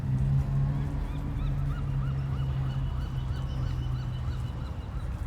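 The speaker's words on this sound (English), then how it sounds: "I like the sounds of the lake. I like the birds." Geese honk repeatedly at a lake in California's Bay Area, a chorus of faint to moderate calls in rhythmic series over a low steady background hum.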